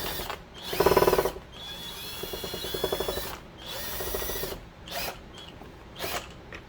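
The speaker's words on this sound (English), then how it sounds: "So I'm going to go ahead and drill now" A power drill bores into a plastic plant pot in several short, whining bursts separated by brief pauses, close and moderately loud.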